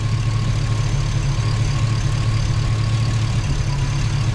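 A Chevrolet Tahoe engine idles with a loud, steady low rumble and an even drone that holds unchanged throughout, close by, with no talking.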